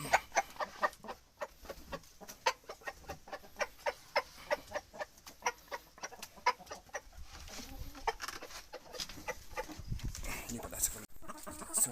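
Hens in a coop cluck in short, repeated bursts during egg collection and feeding, close and fairly quiet, with soft background voices and shuffling.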